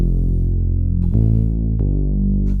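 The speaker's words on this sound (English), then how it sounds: "I'll be using an instance of Serum with the preset called Bass Noon from our Savannah" A Serum synth bass preset, Bass Noon from the Savannah pack, for an Afro house track: a thick sustained low bass tone that changes note twice, loud and continuous with no other sounds.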